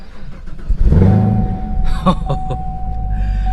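A Chevy Camaro ZL1 with an LS V8 fires up inside the cabin: a starter whir, then a loud burst as the engine catches and settles into a rumbling idle with a few quick revs.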